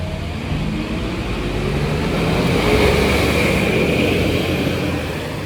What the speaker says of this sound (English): as soon as this bus passes